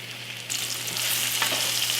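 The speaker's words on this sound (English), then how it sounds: "we're about 7 minutes into frying" Sliced kielbasa sizzles in a hot pan, a soft crackle jumping louder as a utensil scrapes and stirs it, then a steady close frying hiss.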